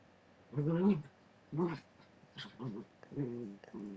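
A dog whimpers and gives low, growly moans in several short bursts, close to the microphone and fairly loud, with brief pauses between each cry.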